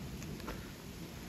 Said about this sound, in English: It's rain coming down.